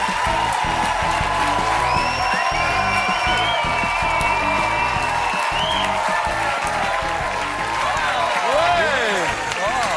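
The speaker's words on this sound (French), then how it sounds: "une dernière fois, de l'applaudissement pour tous les comédiens ce soir" Studio audience applauding comedians at the close of a French-language comedy show, Dieu merci!: steady, loud continuous clapping with some whoops and cheers, while a host speaks over it.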